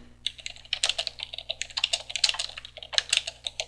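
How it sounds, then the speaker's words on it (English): Someone types a message on a computer keyboard, with quick, uneven clusters of close, crisp key clicks going on steadily for several seconds, and nobody talking. "At the prompt, you type in the message that you want to send."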